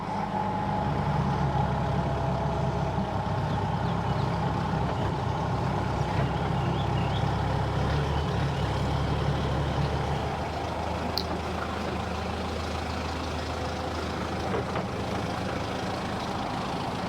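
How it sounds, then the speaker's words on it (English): A forklift rolling over a rough, bumpy half-mile route, its engine droning steadily with rattling and clanking from the jolts, loud and close throughout, with a brief sharp knock near the end. "glad we took the forklift"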